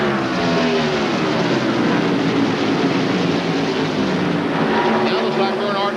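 NASCAR Winston Cup stock cars at Atlanta Motor Speedway roar past on a restart, a dense continuous engine drone from a pack of cars with no break.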